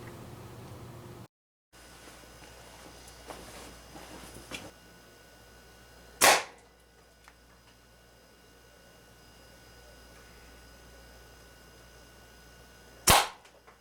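An air rifle fires metal-tipped hunting pellets into a ballistics test medium: two sharp, loud cracks roughly seven seconds apart stand out over a quiet background hiss, with no speech.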